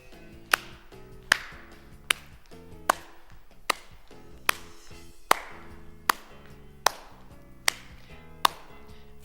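Sharp hand claps land at a steady, even pace, about one per second, during a dance workout warm-up, alone and crisp with soft thumping steps between them.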